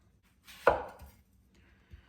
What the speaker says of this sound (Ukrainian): Отакими півколечками я її наріжу.